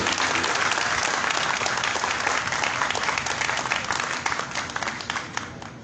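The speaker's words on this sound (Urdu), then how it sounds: "اور تالیاں ان کے لیے" Sustained audience applause at a company anniversary celebration, dense clapping from a large indoor crowd that holds steady and then thins slightly toward the end.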